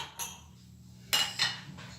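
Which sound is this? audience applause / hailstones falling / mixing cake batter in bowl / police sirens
mixing cake batter in bowl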